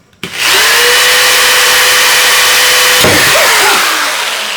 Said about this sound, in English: Broke my drill bit.